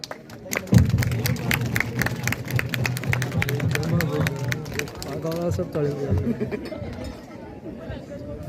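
An audience claps at a Bhilwara youth parliament event, with scattered clapping and crowd chatter going on under a speaking voice.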